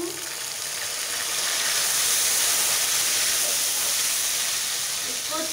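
Ginger garlic paste fries in a pot with a loud, steady hiss and crackle that swells and then holds evenly for several seconds.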